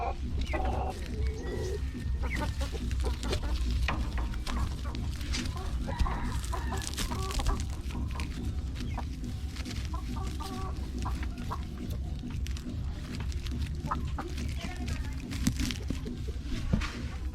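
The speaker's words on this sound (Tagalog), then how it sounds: "nandito yung mga manok na maliliit" Small chickens cluck and chirp in a pen on a farm in San Nicolas, their scattered calls faint under steady rumbling background noise for the whole stretch.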